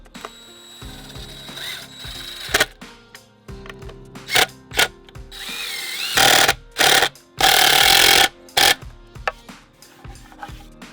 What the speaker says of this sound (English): I can use the construction screws to permanently screw this together.